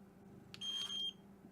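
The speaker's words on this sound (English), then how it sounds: "It's a special shaver for animals that uses a plastic blade so it doesn't cut their skin." An electric pet shaver with a plastic blade gives one steady, high electronic beep of about half a second, moderately loud against a quiet room.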